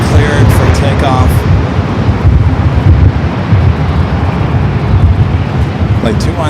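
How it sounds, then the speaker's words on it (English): An Emirates Airbus A380 takes off at LAX with a loud, steady jet roar, heavy and broadband, lasting throughout, with some wind buffeting and a few faint voices over it. "Emirates already cleared for takeoff."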